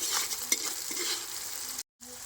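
Onion and green chili sizzle in oil in a pan while a spatula stirs with soft scraping strokes, a quiet, close frying hiss that cuts out briefly near the end.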